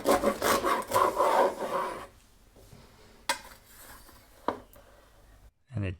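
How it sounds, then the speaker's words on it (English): A knife saws through a crusty baked focaccia topped with rosemary and olives, giving a dense raspy crunching for about two seconds, then a few separate sharp crackles and a final thud as the blade finishes. "Now it's time to cut and check out our bread from the inside."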